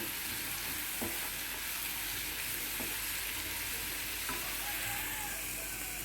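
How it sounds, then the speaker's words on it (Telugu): Onions frying in a pan with turmeric and salt, a steady loud sizzle throughout with a few faint utensil taps, no talking. "ఇలా కొంచెం పసుపు ఈ ఉల్లిపాయ సరిపడా ఉప్పు వేసుకుని వేయించుకోవాలి"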